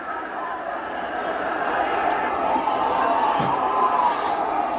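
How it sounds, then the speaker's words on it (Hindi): A large crowd in a stadium, a continuous dense roar of many voices and chatter that stays steady and fairly loud throughout, with no distinct cheers standing out. "ये स्टेडियम में भीड़ उतर आई थी।"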